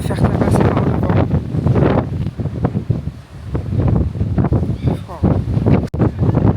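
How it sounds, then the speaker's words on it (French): Strong wind batters the microphone in heavy, uneven gusts, a loud rumbling buffet that rises and dips throughout. "Actuellement en train de me faire tabasser par le vent."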